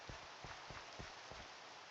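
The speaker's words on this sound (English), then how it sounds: "The rain, it's relaxing, isn't it?" Steady rain falling in the Minecraft game world, a constant hiss running throughout with soft, regular low thuds recurring every half second or so in the background.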